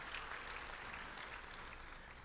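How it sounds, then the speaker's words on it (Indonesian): A church congregation at a worship service applauds together, making a steady, even wash of clapping that sounds somewhat distant and soft, with no speech over it. "Tepuk tangan yang hebat buat Tuhan Yesus."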